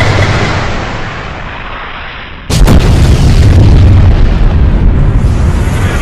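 An animated bomb explosion from Skibidi Toilet bursts suddenly and very loudly after a tense hissing buildup, then rolls on as a sustained, roaring blast.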